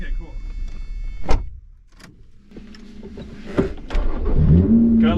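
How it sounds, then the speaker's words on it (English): A 2020 Lotus Evora GT started by push button: a sharp click and starter whir, then the engine catches and settles into a rising idle rumble, heard close from inside the cabin. "Gotta love the push button start."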